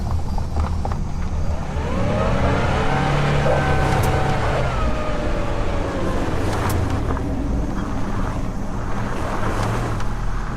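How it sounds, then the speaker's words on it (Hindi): Cartoon car pulling away and driving on, a broad, steady rumble with whooshing wind-like noise running throughout, with no voices. "गाड़ी चलने लगती है।"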